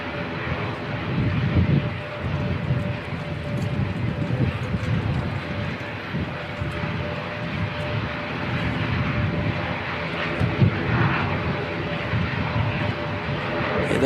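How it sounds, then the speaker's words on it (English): Australian Air Force military aircraft climbing away after takeoff from Christchurch Airport, New Zealand, a steady distant engine roar with wind noise, sustained and fairly even, without talking. "this Australian Air Force aircraft that's come in, I don't even know if that's actually coming back in. Is that? It looks like it's climbing"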